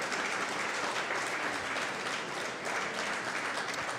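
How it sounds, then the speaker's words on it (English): Steady audience applause at a Packers Clubhouse Live event, a dense even wash of many hands clapping throughout, moderately loud and continuous with no voices. "How about a round of applause,"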